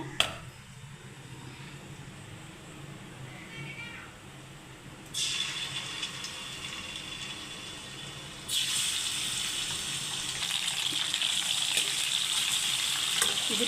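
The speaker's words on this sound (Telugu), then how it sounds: "బాగా ఫ్రై చేసుకోవాలండి ఇది చికెన్ బాగా ఆయిల్లో ఫ్రై అయిపోయి" Chicken pieces frying in oil for a chicken pickle, the sizzle starting faint and stepping up to a loud, steady crackling hiss in two stages partway through.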